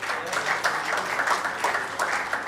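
Audience applause fills a medical award ceremony hall, a steady wash of many hands clapping at moderate distance, continuous for the whole stretch without any voices.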